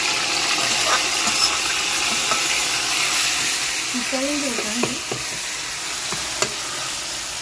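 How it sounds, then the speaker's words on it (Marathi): Garlic and cumin fry in hot oil in a kadhai, a steady close sizzle with occasional stirring clinks and brief scrapes; soft background voices are faintly present. "लसूण चांगलं तळून घेऊ आमचे जिरे टाकले ना लसूण चांगलं तळून घे ना"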